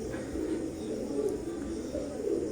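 Teddy pigeons, an imported bloodline pair, give soft low cooing in a steady murmuring rumble that runs continuously and fairly close throughout.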